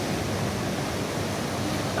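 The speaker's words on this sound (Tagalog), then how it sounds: "May malakas yung alon eh." Strong sea waves break and wash on a beach in Ilocos, a dense, steady roar filling the short stretch with no pauses.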